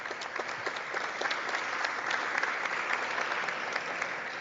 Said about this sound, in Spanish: Muy fuertes aplausos, por favor, para cada uno de ustedes.